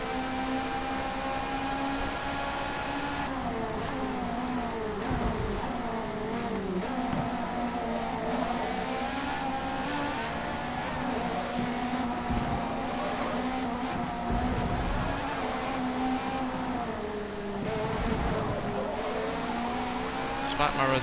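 Ferrari race cars roar around a track in Forza Motorsport 4, a sustained engine whine shifting pitch as they race, with someone talking over the steady engine noise.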